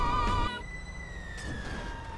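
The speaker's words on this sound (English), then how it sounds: "Yeah, I can hear the siren." A short stretch of police siren tone in GTA V Online holds fairly steady and slowly drifts lower, with no one talking.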